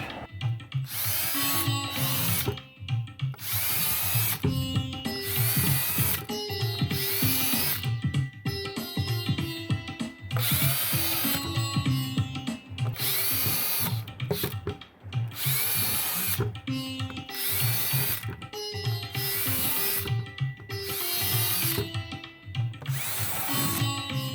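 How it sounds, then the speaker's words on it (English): A power drill whirs in repeated bursts, boring through plastic with a high grinding whine, brief pauses between each hole. "drill some holes inside of the bucket"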